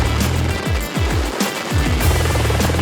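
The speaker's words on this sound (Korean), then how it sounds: "프로펠러 회전 방향이 다르면 하강풍의 방향도 다릅니다" Military helicopter rotor beating with heavy downwash during the joint Korea-US Ssangyong training exercise: a loud, close, steady thumping chop over a roaring rush of wind, with no voices.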